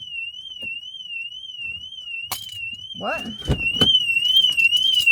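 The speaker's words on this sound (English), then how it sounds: "I was in my car and my car alarm just went off." A car alarm wails with a steady warbling electronic tone throughout, loud and close, while a person speaks briefly and thuds and rustling sounds occur toward the end.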